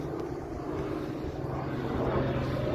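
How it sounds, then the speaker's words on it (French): An airplane passes overhead as a steady, broad engine rumble that swells slightly over a few seconds, heard at a distance with no talking. "il y a un avion qui passe"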